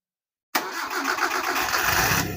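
A Suzuki Jimny Katana that has sat unused for a long time cranks and fires up, its engine catching abruptly after a moment of silence and settling into a loud, steady, slightly rough idle close by.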